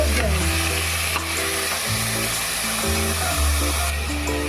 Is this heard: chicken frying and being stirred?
yes